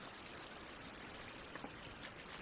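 Heavy rain falls steadily at a survival campsite, a soft, even hiss with faint patters and drips and no voices.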